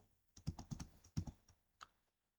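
Keys tapped on a computer keyboard while entering text in an Excel spreadsheet, a close, quiet run of about eight clicks in two short bursts with a final lone keystroke, no voices.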